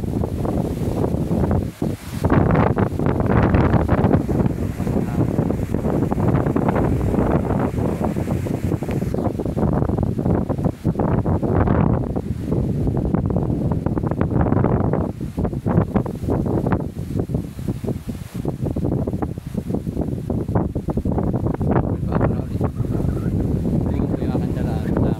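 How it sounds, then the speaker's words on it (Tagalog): Strong wind roars continuously into the microphone, a loud buffeting rush with gusts that never let up. "Naugong po dito ang hangin."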